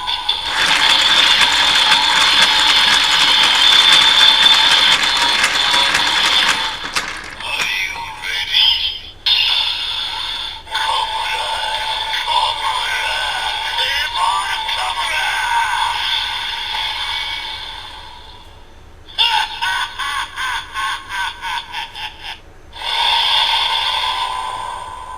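Ratcheting lever clicks from a Kamen Rider Build DX Evol Driver toy belt, with loud electronic chanting and music looping over the winding, then bursts of mechanical cranking, close and loud.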